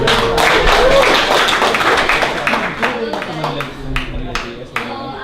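Audience applause greets a speaker introduced at an evening Ruby coding talk: dense clapping fills the room at first, then thins into scattered claps and fades over about five seconds, with voices murmuring underneath.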